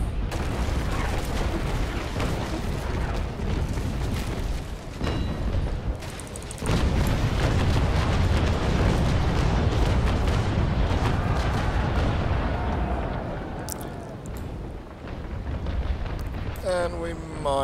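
Broadside cannon fire from the ship Bellona in Naval Action, a sailing-warship game: a dense roar of heavy booms and rumbling blasts fills the whole stretch, loud and continuous, with a voice talking underneath.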